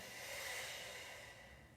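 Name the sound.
deep exhale during yoga breathing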